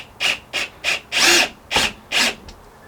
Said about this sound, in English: Let's get these drilled in quickly.